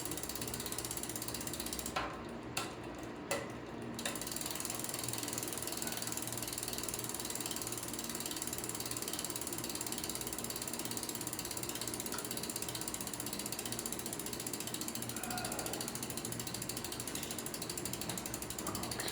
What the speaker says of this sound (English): It's making that little clicking noise